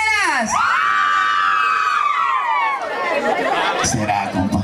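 A concert crowd of single women at a banda show cheers and shouts together in a long, loud, sustained high-pitched yell that tapers off into crowd chatter.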